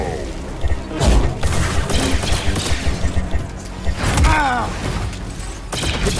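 A blaster salvo fires in Star Wars Jedi: Survivor, with loud bursts and thuds amid busy combat noise and electronic whines, close and continuous.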